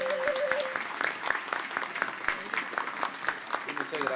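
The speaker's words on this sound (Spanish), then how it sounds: "Un aplauso para ellos, por favor." A church congregation applauds the choir at a Sunday Lenten Mass, dense steady clapping from many hands filling the room for several seconds, with a voice speaking briefly over it.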